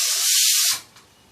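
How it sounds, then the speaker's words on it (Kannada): A pressure cooker whistle releasing steam while cooking bisi bele bath in a home kitchen: a loud, steady hiss that holds for under a second, then quickly dies away to a faint residual sputter. "ಸೊ ಇನ್ನೊಂದು ವಿಷಲ್ ಸಹ ಆಯಿತು."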